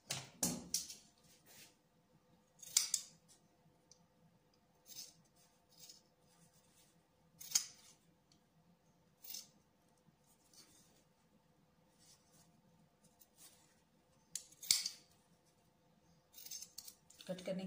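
Scissors cut through cloth for a cutwork sleeve design, making short crisp snips in scattered bursts every couple of seconds, close and quiet against a soft background.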